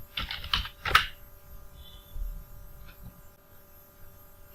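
Keys tapped on a computer keyboard while a website name is entered into a search box, a quick cluster of close, crisp clicks at the start followed by a few sparse keystrokes over a faint hum.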